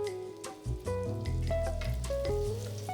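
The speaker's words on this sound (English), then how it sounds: "So you want to fry this about 2 minutes on one side." Mandazi dough, Kenyan fried donuts also called mahamri, fries in hot oil with a steady, close crackling sizzle that continues unbroken.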